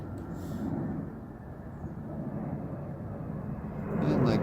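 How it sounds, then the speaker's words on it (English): A fixed-wing airplane passes overhead above a summer vegetable garden, a steady broad engine roar holding throughout and swelling slightly louder toward the end, with no talking. "hello airplane"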